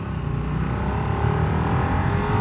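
A 2023 Harley-Davidson Nightster motorcycle engine accelerating with a steady, loud, continuous roar that climbs gradually in pitch, close by and with no voices over it.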